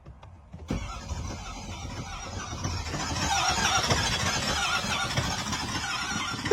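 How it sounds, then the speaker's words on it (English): A Ford car's engine cranks with a whirring starter and squealing but never catches, a steady mechanical grind heard up close after a short quiet start. "Try to crank it one more time."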